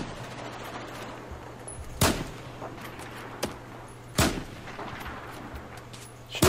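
Gunfire in the Battlefield 4 campaign, Tashgar mission: three or four sharp, loud shots ring out at irregular intervals over a steady low hum and background battle noise, with no talking.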